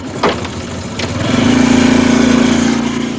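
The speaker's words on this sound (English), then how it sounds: "I've got a moped that I ride to go to Farley Church nearly every day of the week." A moped engine that has been ridden for about 30 years, heard near and loud as it starts, then settles into a steady, buzzing idle, alone with no talk.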